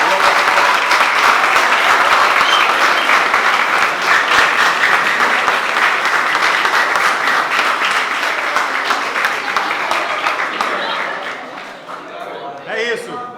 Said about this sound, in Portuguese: Queria salva de palmas para os artistas.